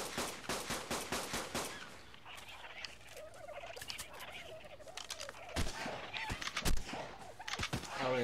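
In the ARK video game, rapid shotgun and pistol shots ring out against a horde of undead dodos, which make squawking, gobbling calls. Bursts of gunfire open and close the sequence around the bird noise.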